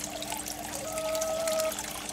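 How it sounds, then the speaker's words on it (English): Water trickles back into an aquaponics filter stuffed with large household sponges, a steady close running splash and dribble with no voices. "that's where all the water comes back in. You can actually see it's running."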